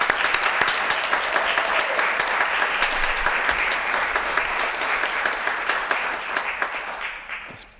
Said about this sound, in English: Let's give a round of applause to our Freedom House graduates.